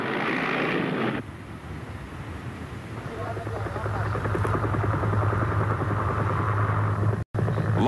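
A Soviet Mi-8 helicopter flies with a steady droning rotor and engine hum that builds and holds, its rhythmic beat running continuously under a narrator's voice.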